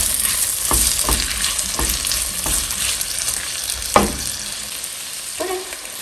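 Seeded jalapeño peppers hit a hot pan and sizzle continuously, with several stirring scrapes and clacks scattered over the frying hiss, heard close and with no talking.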